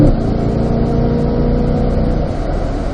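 A car accelerates hard on the Spring Mountain race track, engine droning steadily and loudly close by with a sustained mid-pitched roar for the full three seconds, no talk over it.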